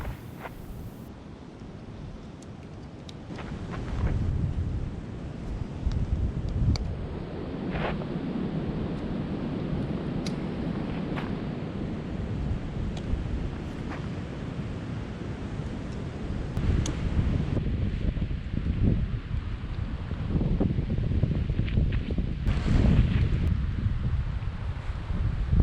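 Wind gusting steadily at Steel Creek campsite on the Buffalo National River, a broad rushing roar that buffets the microphone and swells louder toward the end, with faint rustling and no voices.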